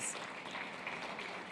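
Faint, distant applause from a conference audience greeting a panelist at an Africa prosperity dialogue session, a soft continuous wash of many hands clapping.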